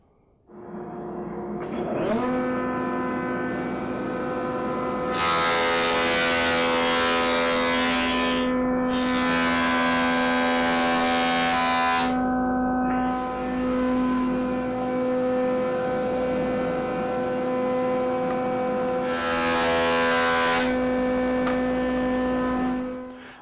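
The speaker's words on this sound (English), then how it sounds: "From here we need to go to the planer." A wood planer runs with a steady harmonic motor whine, and a board feeding through adds louder broadband cutting bursts that come and go over the hum. The machine is close and loud, with no talk.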